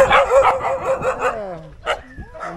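Dogs in Lombok barking and yipping near and loud, a quick run of barks followed by rising whimpers and a few sharp yelps, with no talking.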